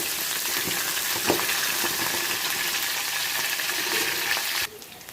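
Green chillies and curry leaves fry in hot oil in a pan with a loud, steady crackling sizzle and occasional stirring, until the sound cuts off abruptly near the end.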